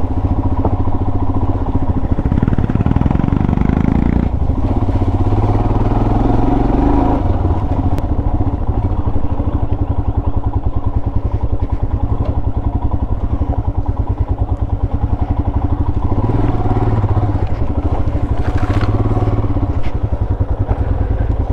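A motorcycle engine drones loudly and steadily throughout a ride on a forest trail near Bangalore, with rough clattering and shifting engine pitch from the uneven ground.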